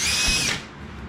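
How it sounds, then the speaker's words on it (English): A power drill bores a hole in a guinea pig loft, a loud close whine that holds for about half a second, then drops away into lower mechanical hum. "That's why we're drilling the hole"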